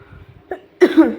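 A person coughs, a small throat sound first and then a louder close burst of two or three coughs, with no speech around it.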